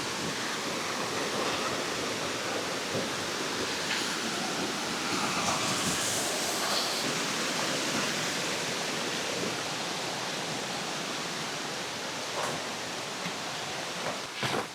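A monsoon waterfall in Kerala roars in a dense, continuous rush of falling water, loud and steady from start to end with no voices.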